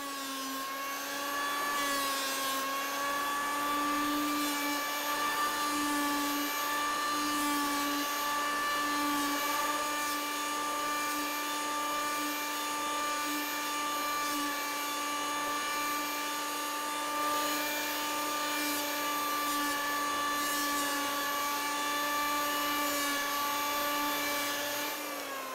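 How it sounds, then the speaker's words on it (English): Power planer cutting wood while shaping a dory transom, a steady, loud high-pitched whine with strong tonal harmonics that holds continuously throughout without talk. "it may sound like the plane has taken off a ton of material, but it's really not. It's just effectively cutting."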